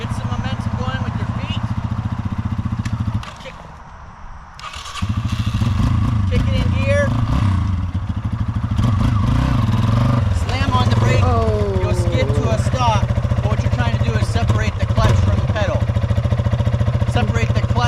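A Yamaha XT250 dirt bike runs close by with a loud, steady single-cylinder engine drone that briefly drops away and then returns, with some clatter and varying revs as it rides.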